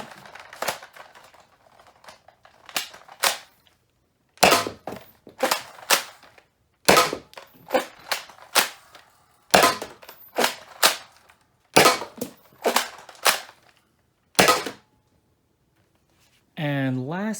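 A FaZe Clan Respawn toy blaster fires orange Adventure Force rounds, each a sharp, close snap, coming in quick bursts of two to four shots with short pauses between. A brief warbling electronic tone follows at the end.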